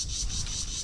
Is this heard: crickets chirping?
yes